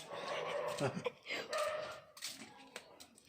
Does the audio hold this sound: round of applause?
no